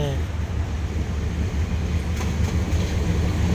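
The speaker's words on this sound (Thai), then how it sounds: "รถไฟรางมาแล้ว" A train pulling into Bang Sue Central Station in Bangkok, a steady loud low rumble of rolling rail cars filling the whole moment, with a voice talking faintly over it.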